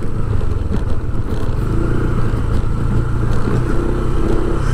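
An adventure motorcycle engine drones steadily throughout while riding a bumpy road, a continuous low rumble with slight revving, close and loud, no talking.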